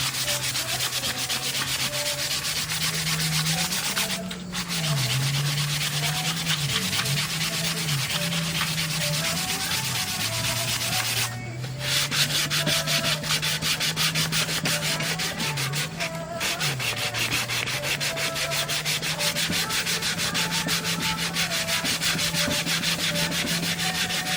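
Wooden bowl being sanded with 120 grit sandpaper, a continuous rhythmic rubbing and scratching that runs steadily with a few brief pauses, close and clear with no speech.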